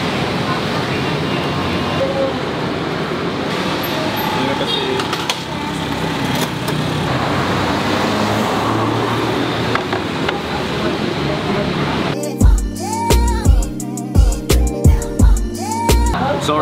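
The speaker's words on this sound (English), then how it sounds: "this place is like right in the middle of the road and there's so much traffic going on" Dense, steady roar of heavy road traffic heard from inside a fried chicken restaurant beside a busy road, constant and loud for most of the stretch, then giving way to closer clattering and knocking sounds near the end.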